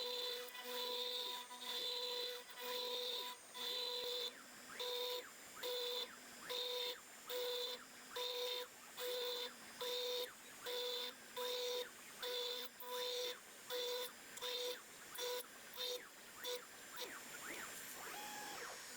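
A CNC machine cuts away the top layer of an end-grain wooden cutting board with an inlay, producing a steady series of short, evenly repeated whining passes with brief gaps between them.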